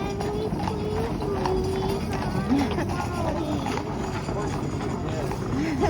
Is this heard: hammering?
no